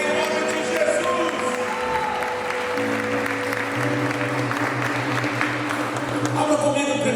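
A church congregation applauds together in a steady wash of clapping that holds at an even level throughout, with faint musical tones underneath and a few scattered voices.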